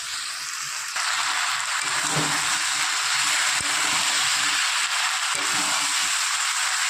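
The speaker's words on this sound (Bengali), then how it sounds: "ভালো করে আলু আর গাঁটি কচুর সাথে একসাথে মশলাটা কষিয়ে নেব।" A paste of onion, garlic, green and dried chillies and tomato fries with potatoes and taro in a pan. It gives a loud, continuous hissing sizzle with faint stirring knocks underneath.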